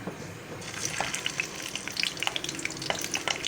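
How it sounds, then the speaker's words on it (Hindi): Stuffed capsicums go into hot oil in a fry pan. A soft, steady sizzle rises with scattered small pops and crackles close by, and no one speaks. "फ्राई पैन में ऑयल अच्छे से गर्म हो गया है। अब हम इसमें शिमले की मिर्चें रखेंगे"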